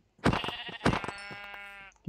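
Two short sheep bleats from the video game Minecraft, close and clear, the second trailing into a longer wavering tone, with brief quiet on either side.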